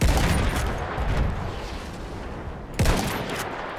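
Gunfire in the video game Battlefield 1, a loud continuous barrage of shots with a sharp fresh blast near the end, close and dense.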